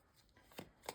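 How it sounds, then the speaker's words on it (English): Tarot cards being shuffled close by, two quick soft riffling bursts in under a second, quiet and without talk. "these cards are shuffled."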